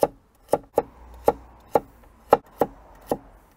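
A knife chops through a vegetable on a cutting board, cutting it into half rings of even thickness: eight sharp, evenly paced chops, close and clear, with no talking.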